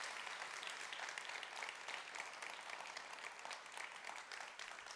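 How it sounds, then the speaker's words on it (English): A congregation at a church service gives a steady round of applause, dense and even clapping sustained throughout without a break. "round of applause to those who take care of us."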